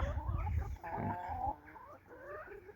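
Hens on a small French farm raised among fruit trees cluck and mutter close by, a flock of about twenty-two layers making short rising calls in a busy cluster.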